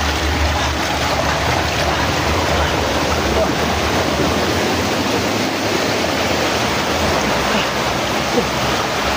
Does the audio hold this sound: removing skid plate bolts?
no